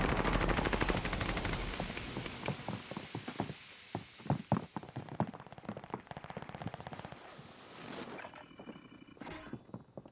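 Automatic weapon fire in a shooter video game, rapid loud rattling bursts of shots, heaviest at the start and then in scattered shorter volleys, with faint game effects and little talking.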